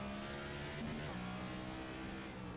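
A NASCAR race car engine in a racing game drones loudly and steadily, its pitch rising slightly as the car accelerates, with no speech.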